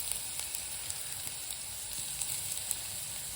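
Onions and ginger-garlic paste fry in a pan for mutton keema curry, giving a loud, continuous close sizzle with small pops and no voices.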